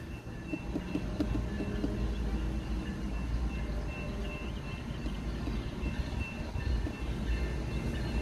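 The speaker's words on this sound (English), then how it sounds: "Oh, the train." A train rumbles past as a continuous heavy low roar with wind buffeting the microphone, steady and fairly close for several seconds, no talking.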